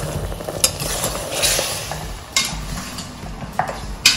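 Fried mutton pieces are stirred with salt in a pot, with a spoon scraping and clanking against metal over a low sizzle, in several louder knocks spread through the stirring.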